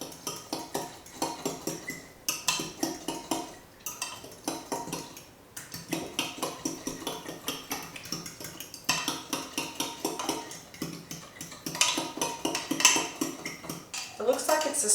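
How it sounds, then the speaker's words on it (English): A whisk clinks rapidly and rhythmically against a bowl as sour cream and other ranch dressing ingredients are mixed, a close, steady metallic tapping that runs throughout. "Now we will need to mix all these three ingredients together until they're smooth."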